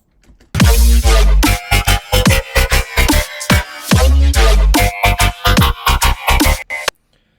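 A loud dubstep track with heavy wobbling bass and choppy, stuttering drops, starting after a brief silence and cutting off abruptly near the end.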